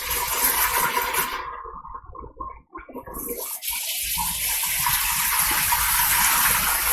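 Water gushes from a tap over rice being rinsed, a steady loud splashing flow that briefly dips and then continues strongly to the end, with no talking.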